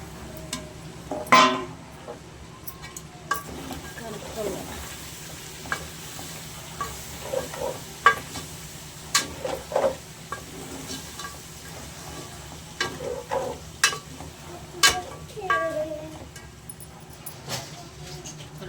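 Goat head curry cooking in a pan with tomato, sizzling quietly while a spoon stirs it in scattered scrapes and clinks, with soft kitchen background hum.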